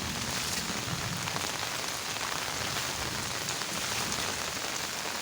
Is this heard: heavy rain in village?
yes